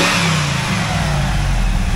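A cold 1996 Pontiac Firebird Trans Am with the LT1 V8 and Ram Air, 131,000 miles, revs loudly and steadily up close with a deep, continuous engine roar and no voices.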